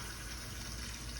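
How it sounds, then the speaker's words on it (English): Water pours steadily into a cooking pot already holding a cup of sugar, a continuous close gush of liquid lasting the whole moment with no talk over it. "Put the water in there."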